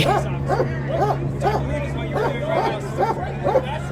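A shepherd dog of a working breed barks repeatedly in quick rhythmic bursts, loud and close, over a crowd's background chatter and a steady hum.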